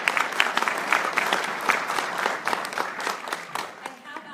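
An audience at a gubernatorial debate applauds, a dense burst of clapping from a crowd that carries on steadily, close and fairly loud.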